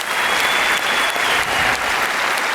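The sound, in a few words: audience applause at stand-up comedy show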